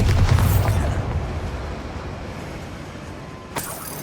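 Bombarda spell explosion in Hogwarts Legacy: a loud, deep booming blast at the start that rumbles and fades over a few seconds, followed by a short sharp crack near the end.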